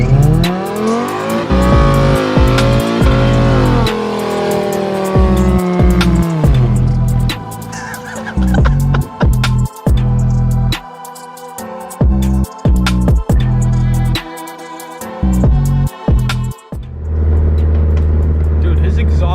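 A PT GT car revving and accelerating hard, its exhaust popping and crackling in sharp bursts between rising engine notes, with people talking over it nearby.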